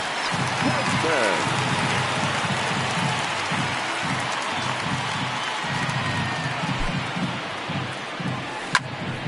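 Ballpark crowd in the baseball video game MLB The Show 19, Athletics versus Angels, keeps up a constant loud rumble of noise, with commentary voices running underneath.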